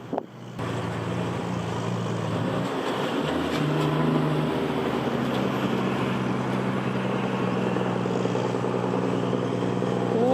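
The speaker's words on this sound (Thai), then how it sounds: "เสียงรถสิบล้อไหมครับ" A heavy Hino ten-wheel dump truck engine rumbles steadily nearby at a construction earthworks site, a low continuous drone with broadband road and wind noise throughout.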